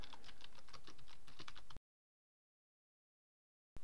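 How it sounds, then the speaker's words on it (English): Soft, rapid clicking of keys on a computer keyboard, quick continuous typing for under two seconds before it cuts to silence. "I'll just type in my first post"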